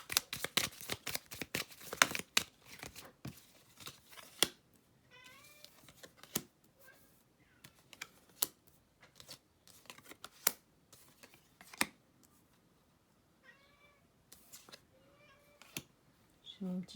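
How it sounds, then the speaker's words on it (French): A pet cat meows several times, short rising cries scattered between sharp clicking and tapping noises, while a person talks nearby. "J'ai mon petit chat qui parle."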